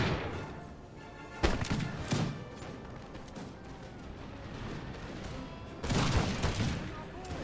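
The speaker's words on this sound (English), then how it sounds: "my guys are finally shooting at him" Musket volley fire in Napoleon: Total War, with a dense crackling fusillade of massed shots that surges at about 1.5 and 6 seconds over a continuous rumbling battle din. A voice talks over the fire throughout.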